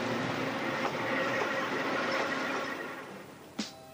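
A tram runs along a main road in Miskolc with a steady, rumbling roll that slowly fades as it moves off, ending with a sharp metallic click.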